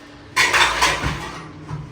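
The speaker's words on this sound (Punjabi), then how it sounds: "ਹੁਣ ਭਾਂਡੇ ਸਾਫ਼ ਕਰ ਪਹਿਲੇ" Dishes, pots and utensils clatter loudly while being washed, a burst of clanking metal and ceramic that starts abruptly and carries on with scattered knocks and scrapes.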